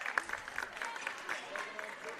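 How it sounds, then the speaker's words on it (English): Home-crowd applause rises in a high school gym during a boys' basketball game, a continuous clapping wash heard fairly quietly beneath a play-by-play announcer. "the Cardinal faithful give them a big round of applause"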